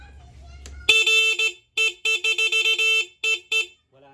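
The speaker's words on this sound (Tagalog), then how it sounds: "Pagka bumusina tayo" Horn of a Rusi Passion SC125 motorcycle with a battery-operated power-up, blared loud and near in a long blast followed by a rapid string of short, choppy honks.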